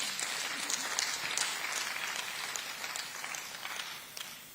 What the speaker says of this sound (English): Mr. President deserves another round of applause.